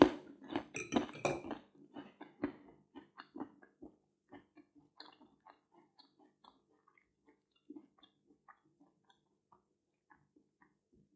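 Cutlery scrapes and clinks against a plate while a salad leaf is cut during a meal. Several busy clatters come first, then sparse, quieter taps that thin out, close by with no talk.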